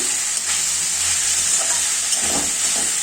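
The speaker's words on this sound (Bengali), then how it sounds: "কড়াইতে তেল দিয়েছি, তেল দিয়ে আলু ভেজে নিয়েছি, তারপর পেঁয়াজ দিলাম, আদা রসুন বাটা দিলাম।" Potatoes, onion and ginger-garlic paste fry in oil in a wok, a steady loud sizzle with soft stirring scrapes and no voices.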